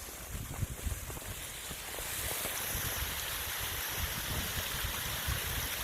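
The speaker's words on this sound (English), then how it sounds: "This is one of several little waterfalls along the trail" A small waterfall along the Pine Creek Rail Trail near Slate Run gives a steady, broad rushing splash that grows fuller and more constant after the first couple of seconds, with some wind buffeting at the start.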